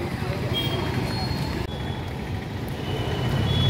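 Ambience inside Madurai railway station: a steady, dense rumble of trains and crowd murmur with indistinct voices throughout, continuous and fairly loud.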